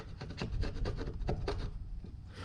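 Old epoxy glue is scraped off a hot tub skimmer lid, giving a series of short rough rasping strokes close by, quickening then fading near the end.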